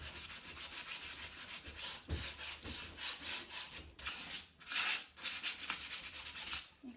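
Rhythmic back-and-forth scrubbing on wooden furniture as chalk paint is rubbed away to distress it, with close, soft abrasive strokes repeating steadily.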